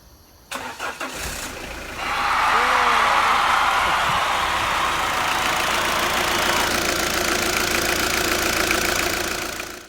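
A Peugeot Partner van's engine cranks and starts after a fuel filter change, then settles into a steady, fairly loud idle with a slight knocking note that runs to the end.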